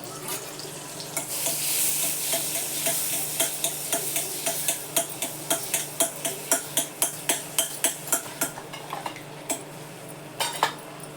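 Butter and a little oil heating in a pan over low gas, under a faint sizzle, with a quick run of regular metallic scrapes and taps as a spoon stirs the pan, close and without talk.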